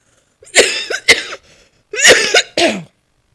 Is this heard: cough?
yes